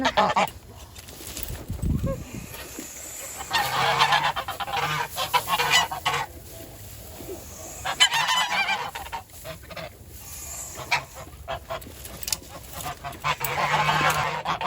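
Several geese honk repeatedly nearby in noisy overlapping bursts, with brief pauses and some rustling between calls.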